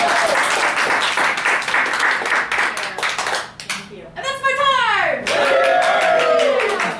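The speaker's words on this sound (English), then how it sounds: "give yourselves a great big round of applause" An audience at a July 2014 session breaks into steady, loud applause, dense clapping that briefly thins before picking back up, with voices mixed in.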